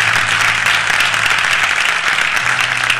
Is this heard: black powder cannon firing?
no